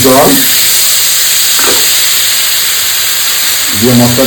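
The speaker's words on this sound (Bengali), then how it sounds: "মশলাটাকে পাঁচ থেকে পাঁচ সেকেন্ড কি দশ সেকেন্ড এটা এইগুলো কষিয়ে নিচ্ছি" Turmeric and spices frying in a pan, a loud steady sizzle and hiss filling the whole stretch, with brief scrapes of stirring near the start and end and no talk.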